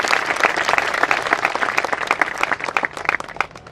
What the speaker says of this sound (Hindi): उन सबके लिए भी जोरदार तालियां।